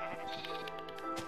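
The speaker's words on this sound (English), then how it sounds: "Alright, I just got two sheep" Sheep bleating in the Minecraft video game, a couple of short wavering bleats over steady game music and ambience, fairly close.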